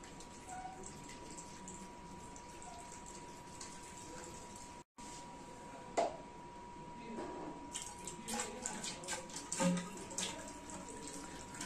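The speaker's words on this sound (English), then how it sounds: "Now we start filling the flask with water." Water runs steadily into a glass flask during a hydrostatic level transmitter demonstration, a continuous close trickle and splash with a steady hum beneath and a few brief clinks and drips later on.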